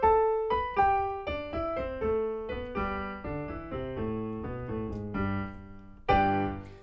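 Solo piano playing the opening of Scott Joplin's ragtime piece The Entertainer, a bright descending run of single notes that gives way to bouncing chords, close and clear with no voices.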